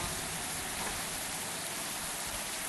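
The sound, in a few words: rain falling in a horror video game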